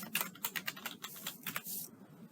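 Typing on a computer keyboard, a quick run of light, close key clicks at an uneven rhythm, ending in a brief rustling burst.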